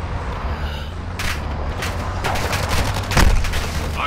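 Gunfire in Call of Duty: Modern Warfare II: several sharp shots and bursts crack over a steady, rumbling battlefield background, with the loudest blast near the end.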